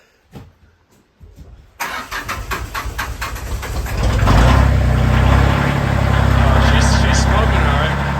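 A 1976 Porsche 911S barn find cranks and fires up after a few quiet clicks, then settles into a loud, steady, close rumble that holds to the end. Speech is tagged, though no words come through.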